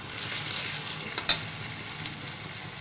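A spice paste sizzles in a pan with softened tomatoes for a fish curry, a steady bright frying hiss with a couple of brief pops and stirring scrapes, no voices.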